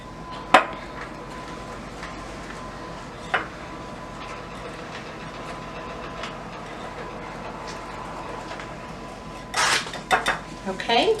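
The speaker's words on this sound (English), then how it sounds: "Our flour, our sugar, our salt, and our baking powder. Let's whisk that together." A whisk working flour, sugar, salt and baking powder in a bowl for a cake, scattered light scrapes and taps at first, then a louder clattering burst of whisking near the end.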